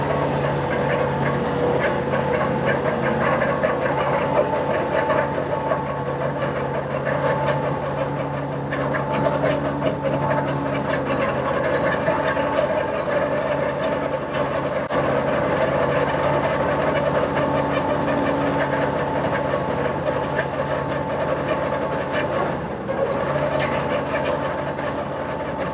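A John Deere 4430 tractor runs steadily with a 926 MoCo mower conditioner while mowing hay in a field, a continuous droning engine hum heard from the cab with no talk.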